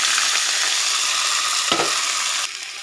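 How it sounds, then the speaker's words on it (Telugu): Green chilies, tomato pieces and tamarind sizzle in hot oil in a pan, a steady close, loud frying hiss with a brief stir scrape near the end and the sizzle easing slightly afterward. "ఇప్పుడు కొద్దిగా ఆయిల్ వేసుకొని పచ్చిమిర్చి టమాటా ముక్కలు అలాగే కొద్దిగా చింతపండు వేసుకొని వేయించుకోవాలి"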